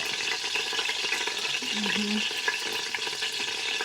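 Eggplant frying in a pan for tortang talong, a steady busy sizzle with crackling bursts that continues throughout the short stretch.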